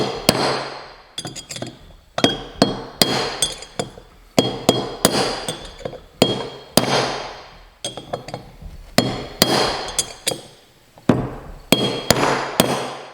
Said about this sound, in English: with a steel tool, I just want to hit it